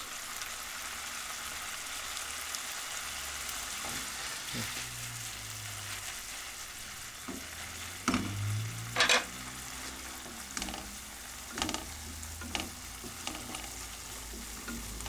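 Minced meat fries in a pan with a steady, close sizzle throughout, punctuated by a few louder clinks and stirring knocks in the second half.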